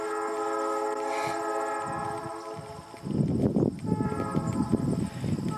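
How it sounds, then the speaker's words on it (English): A train horn sounds from across a river with sustained tones, joined by rumbling rail noise and gusty wind that grows louder midway. "That train that you hear is actually on the other side of the river."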